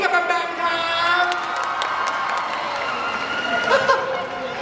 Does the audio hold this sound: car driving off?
no